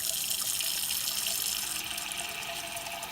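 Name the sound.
tap water filling a cooking pot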